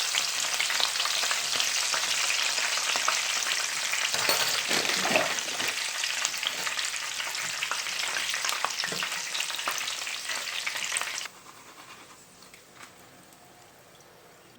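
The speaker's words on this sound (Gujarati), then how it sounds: "હવે આપણે મરચાં એડ કરશું, તીખા મરચાં, બહુ તીખા નથી અને ધીમે ગેસ પર કરવાના છે." Green chillies frying over a low gas flame for chevdo, a dense hissing sizzle with stirring scrapes that drops suddenly to a faint, quiet crackle near the end.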